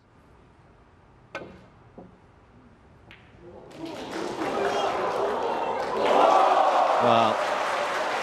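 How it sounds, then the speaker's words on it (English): Snooker crowd at a Ronnie O'Sullivan match bursting into loud roaring and sustained applause that swells and peaks, following a few sharp clicks of balls, with brief commentary talk at the start. "roars from the crowd"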